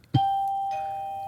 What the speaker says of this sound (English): It's like hearing that doorbell.